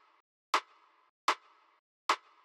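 Three evenly spaced sharp rim shot hits from an unprocessed RKU drum sample, each a crisp crack with a short ringing tail, sounding alone and fairly quiet.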